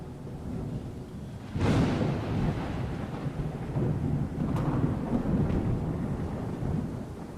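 A thunderstorm in the Star Trek Outposts Unknown game: a loud thunderclap breaks at once and then rumbles on, with rain hissing steadily underneath throughout.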